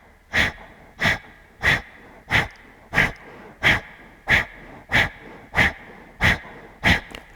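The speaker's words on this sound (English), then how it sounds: "Breath of fire or long, deep breath." Breath of fire yoga breathing in a yoga class: a steady train of about twelve sharp, forceful nasal exhales, evenly spaced roughly every two-thirds of a second, close and clear with quiet gaps between each puff.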